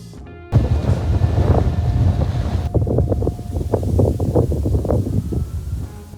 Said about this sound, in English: It's just ridiculously windy